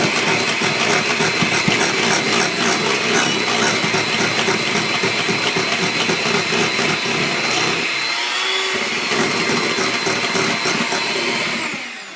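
An electric mixer whirs steadily while beating vegan coconut macaroon mixture, a loud continuous motor drone with rattling that shifts slightly in pitch near the end before fading out.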